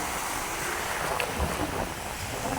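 Ocean waves wash along the shore at San Fabian, Pangasinan, a soft, continuous surf with wind buffeting the microphone and one faint swell rising midway.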